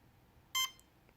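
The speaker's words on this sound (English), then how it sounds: "that's a long beep with 3 shorts" A Cheerson CX-20 drone sounds a short electronic beep code, one clear tone burst standing alone against a quiet background.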